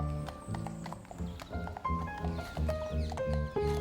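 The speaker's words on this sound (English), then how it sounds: "We ensure safety in the park by patrolling the paths with our horses." Carabinieri mounted police horses clip-clop along the park paths of Villa Borghese in Rome, with steady close hoofbeats on hard ground and a horse whinnying over them.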